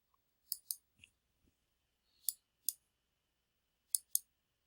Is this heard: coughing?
no